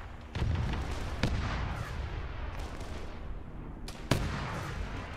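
Rocket explosions in the military game Arma 3: a few sharp blasts with rumbling booms in between, heavy and loud, and no voices.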